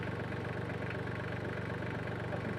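A tractor engine idling outdoors in a Portuguese forest: a steady, low, rumbling idle with constant loudness throughout.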